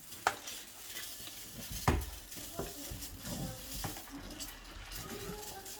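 A spoon stirs sugar into a mixture in a bowl, giving quiet scraping and light clinking strokes with a couple of sharper knocks against the side.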